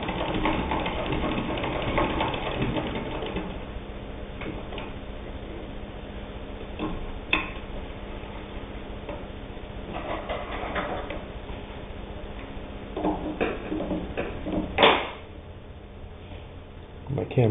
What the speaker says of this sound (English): Doesn't take any more hand strength on the hand crank to sew the 8 layers than it did to sew the couple layers of sheeting.